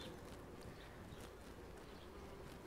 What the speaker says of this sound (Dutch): dan gonst de hele boom van de bijen en de hommels